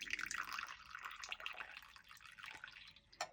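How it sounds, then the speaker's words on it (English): Water runs from a tap over a tea cup being rinsed out, a steady splashing flow with faint drips and a small clink near the end, close by with no talk. "I need to wash this cup out again"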